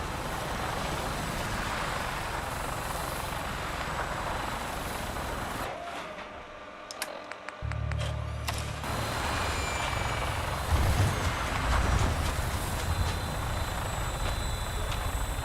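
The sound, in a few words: Fallout 4 vertibird aircraft taking off, from a video game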